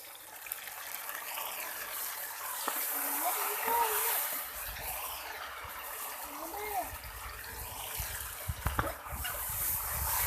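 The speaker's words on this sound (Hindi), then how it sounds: "थोड़ा सा पानी शामिल करेंगे।" Water is poured and swirled into a pan of fish korma being cooked, a soft gushing and sizzling splash building after a couple of seconds and continuing at close range.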